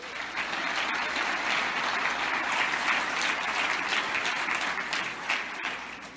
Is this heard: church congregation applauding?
yes